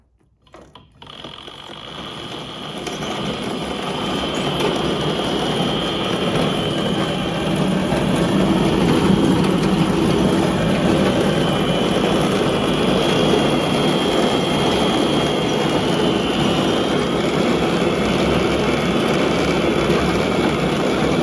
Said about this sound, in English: we'll see if it's enough to turn the belt